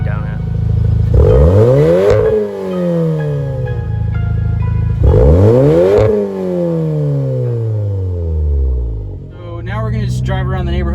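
A VW MK7 Golf R fitted with a Nameless Performance exhaust revs hard twice, climbing and falling each time, loud and close, before settling to a rumbling idle with a brief clatter at the end.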